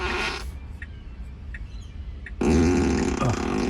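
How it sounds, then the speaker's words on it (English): A Tesla Model 3 plays a novelty fart sound effect on demand: one short, loud, raspy burst, a pause of near quiet, then a second, longer flatulent blast up close. "I can now press the button and get a fart sound on demand"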